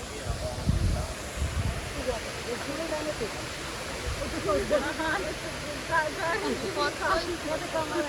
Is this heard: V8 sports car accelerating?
no